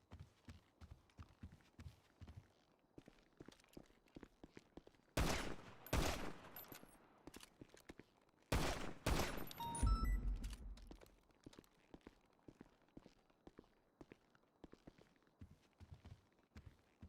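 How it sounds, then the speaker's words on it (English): Gunfire rings out on a video game role-play server, two loud bursts of rapid shots midway through, set against steady footsteps or hoofbeats clopping in the foreground. "Who's shooting? Anyone inside the shooting range?"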